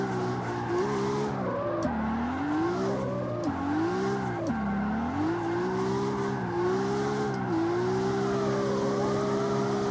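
A Supra in the CarX Street racing game slides through a drift, its engine wailing and dipping in pitch as revs rise and fall, with tire squeal under a loud, continuous, close engine note and no talking.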